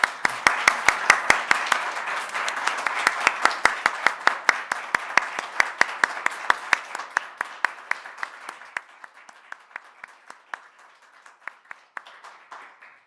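Audience applause at a family justice debate event, a dense run of many hands clapping that is loud at first, then thins out over about thirteen seconds into scattered, fading claps.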